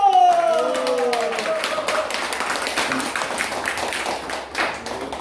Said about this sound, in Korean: 응원의 박수 부탁드립니다